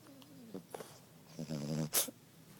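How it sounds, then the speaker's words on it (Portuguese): A man snores loudly while asleep on a pillow, giving a few rough, rattling breaths with a sharp snort near the end, close to the listener and with no talking. "ronca muito."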